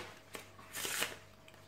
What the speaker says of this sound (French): On peut bien évidemment mélanger le jeu.